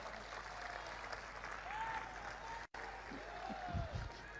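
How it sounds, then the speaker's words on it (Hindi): An audience applauds during a Hindi lecture, a steady wash of clapping that continues throughout with a brief gap partway, heard at moderate distance. "यहां तो तालियां बजी।"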